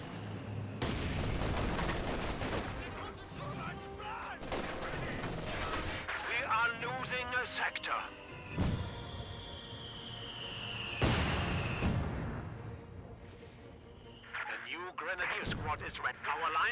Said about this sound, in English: He does get pinned down by the base MGs.